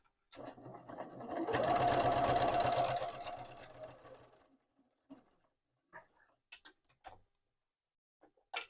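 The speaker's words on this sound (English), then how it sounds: "we are going to sew down the sides, along the bottom, and across the top" A sewing machine runs in one steady burst of about three seconds, stitching a seam with a 1/8 inch allowance through five layers of fabric. Soft handling clicks and small taps follow.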